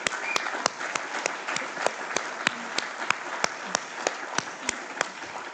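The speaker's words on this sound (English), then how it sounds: "a really heartfelt round of applause" A crowd applauds steadily, dense clapping filling the room with a few sharper individual claps standing out, no talking.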